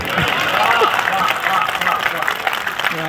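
An audience at a poetry recital applauds in a steady, dense wash of clapping, with voices mixed in underneath throughout.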